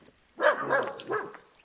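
Dogs bark outdoors before dawn, a short burst of nearby yaps and barks with a brief pause between calls, moderately loud, with no talking.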